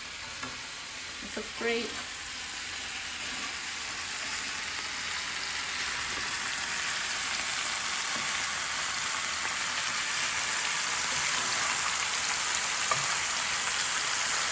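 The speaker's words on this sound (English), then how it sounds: "our veggies are wilting down and we can go ahead and turn them" Vegetables for japchae, Korean glass noodles, sizzle and hiss steadily in a hot pan as they are turned and stir-fried, a few clacks of stirring early on, with a brief remark spoken over the frying.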